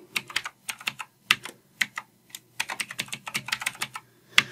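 A new password typed on a computer keyboard, with quick irregular bursts of sharp key clicks, close and fairly quiet, with short pauses between clusters.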